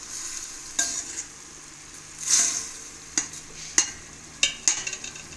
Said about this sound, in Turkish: Önce etini koydu düdüklünün içine. Et kavruluyor.